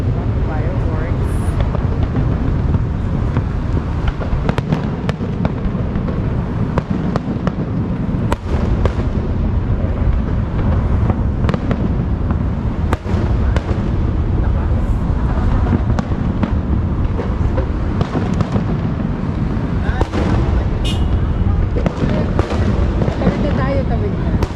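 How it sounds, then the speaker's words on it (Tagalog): An outdoor fireworks display near Suntec in Singapore crackles and booms loudly and continuously, with dense bursts and popping reports while people talk and react nearby. "Fireworks."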